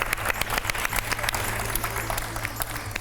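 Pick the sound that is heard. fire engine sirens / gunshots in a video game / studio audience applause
studio audience applause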